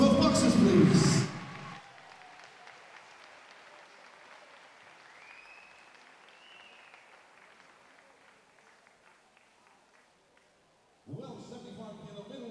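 Crowd at amateur boxing finals applauding the boxers, a loud burst of clapping that fades quickly to a quiet hall, then a voice comes in over the room near the end.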